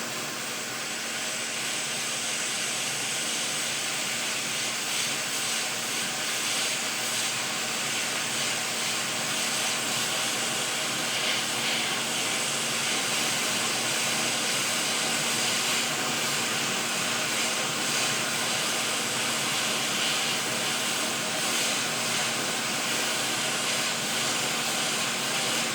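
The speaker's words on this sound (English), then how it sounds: "we're going to come in just with a little bit of heat with a heat gun and just warm up the whole area" A heat gun blows steadily while warming the circuit board of an Xbox Series X. Its airy roar and whine stay loud and unbroken for nearly half a minute.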